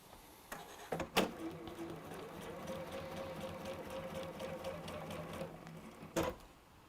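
A sewing machine runs steadily, stitching a quarter-inch seam joining two fabric pieces, with a brief clunk and short bursts at the start and a final clatter as it stops; the steady whir is close and moderately loud, with no talking.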